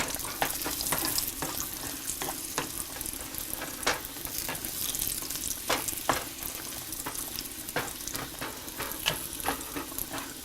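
Golden raisins fry in a hot pan with a steady close sizzle, broken by frequent sharp pops and crackles as they puff up, with no talking.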